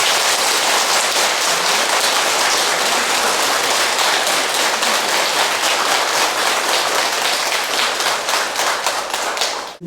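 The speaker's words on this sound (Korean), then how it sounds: "선생님께 감사와 축하의 큰 박수." Dense, loud applause from a crowd at a Buddhist dharma gathering honoring a monk, continuous and steady for nearly ten seconds before cutting off at the end.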